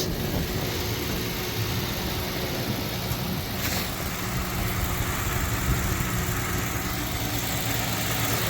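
A 2011 Ford Crown Victoria LX engine idles with the hood open, giving a steady, close mechanical hum and rumble that holds even throughout, with no talking.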